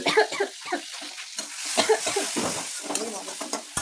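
Tomato and onion masala sizzles and fries in a pan, stirred in short scraping bursts, close and fairly loud.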